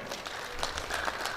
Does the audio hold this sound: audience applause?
yes